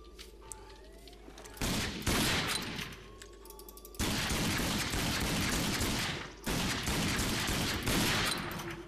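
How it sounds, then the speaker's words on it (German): Gunfire in the shooter game Rage: loud bursts of rapid shots come in several volleys separated by brief pauses, close and dense, with no talking. "Ja, ja, noch ein paar Schuss."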